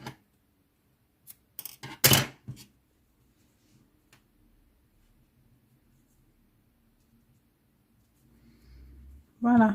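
Scissors snip crochet yarn in a few quick, crisp cuts clustered near the start, close and brief, followed by near silence and then a voice at the end.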